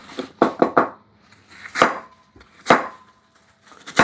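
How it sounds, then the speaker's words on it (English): A knife dices apples on a cutting board, striking in close, sharp chops: a quick cluster of four, then single strikes spaced about a second apart, with quiet gaps between them. "Making little diced apples out of that."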